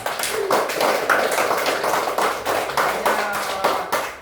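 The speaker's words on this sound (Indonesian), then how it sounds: "Tepuk tangan untuk kita." A group of classroom participants claps hands together in a lively burst, with sharp rhythmic claps repeating in clusters for a few seconds at close range.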